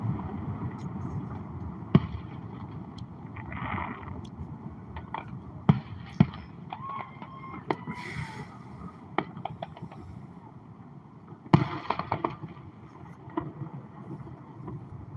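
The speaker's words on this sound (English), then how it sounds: "Some commercial fireworks." Commercial fireworks going off outdoors near a bridge on the Juneau, Alaska waterfront for the Fourth of July, heard as scattered sharp bangs and pops over a steady rumble of wind and water, with some louder reports near the end.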